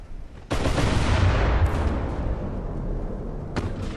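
Naval gunfire in the warship battle game Ultimate Admiral: Dreadnoughts erupts as a sudden heavy blast, then rolls on as a dense, continuous rumble, with fresh booming salvos cutting in partway through and again near the end; no voices.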